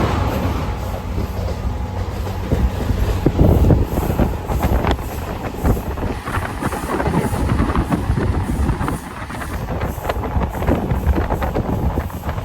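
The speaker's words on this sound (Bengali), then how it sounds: "একদমই ইন্ডিয়া বাংলাদেশ বর্ডারের পাশ দিয়ে ট্রেনটা যাচ্ছে।" A train runs along the India-Bangladesh border near Changrabandha, its carriages rumbling and rattling steadily with heavy wind buffeting the microphone throughout, no voices heard.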